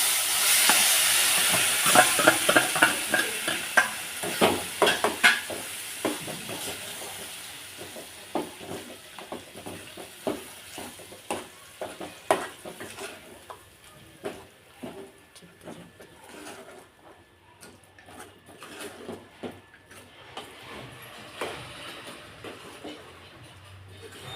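A tempering of lentils, curry leaves, turmeric and asafoetida frying in oil for coconut chutney, a dense crackling sizzle that starts loud and thins into scattered pops and spatters over time.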